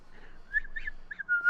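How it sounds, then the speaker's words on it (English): Someone whistles softly, a few short, quiet tonal notes rising and falling in a brief little tune. "I'm just gonna start whistling."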